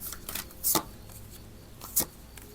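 Cards being shuffled and riffled, with two sharp bursts of flicking standing out over soft handling noise, no speech.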